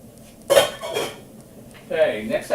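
A utensil scrapes leftover food from a metal can lid into a cooking pot while making a bean dip, giving two clattering metallic scrapes and knocks, close and fairly loud.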